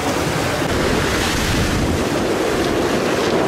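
Ocean waves and strong wind rush past a sailboat surfing on the open sea, a loud, continuous wash of water and buffeting wind noise close to the microphone, with no voices.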